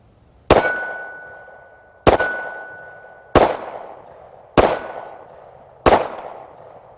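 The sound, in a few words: Hellcat pistol firing 12 rounds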